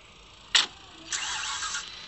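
A car engine starts up in an Upin Ipin video game: a short sharp crank burst, then the motor catches and settles into a buzzing, slightly rising idle.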